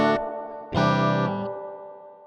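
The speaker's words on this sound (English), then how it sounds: "Nice spring reverb. It's good for guitar always." Guitar played through a spring reverb effect in Native Instruments Guitar Rig, two sustained chords with a sharp attack, the second ringing out and decaying into a lingering reverberant tail.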